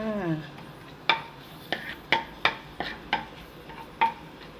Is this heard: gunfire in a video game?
no